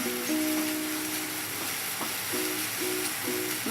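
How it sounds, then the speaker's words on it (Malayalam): Onions and chopped meat fry for a meat roll filling, giving a steady close sizzle with stirring scrapes and a few short repeated tonal squeaks, and no one speaking. "അത് കഴിഞ്ഞിട്ട് നമുക്ക് ചോപ്പ് ചെയ്തിരിക്കുന്ന ഇറച്ചിയും കൂടി നല്ലതുപോലെ മൂപ്പിക്കണം"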